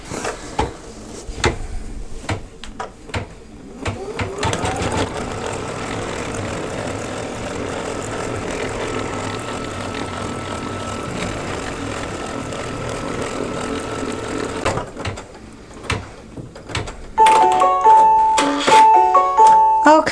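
An embroidery machine stitches the last stitch of an in-the-hoop coin purse, a steady mechanical whirr with rapid needle pulses that stops, followed by a bright beeping tone near the end.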